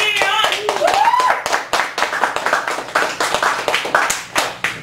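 Audience at a Chicago poetry open mic clapping for poet Virginia Hunt, steady hand claps close and loud throughout, with cheering voices mixed in.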